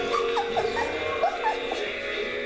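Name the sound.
golden retriever puppies whimpering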